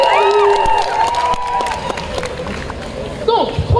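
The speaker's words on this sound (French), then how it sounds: "Mais juste avant, on applaudit Alice" An audience at a cosplay parade during GeekFest in Bordeaux cheers and applauds. The cheering is loud and close, with whoops and shouts over scattered clapping, and it swells again briefly at the end.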